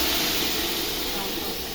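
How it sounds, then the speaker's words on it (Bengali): Rice grains frying in a pot for tehari make a steady, dense hiss that runs unbroken and fairly loud throughout, with no clear talk above it. "চালগুলো অনেকক্ষণ আমি ভাজতেছি"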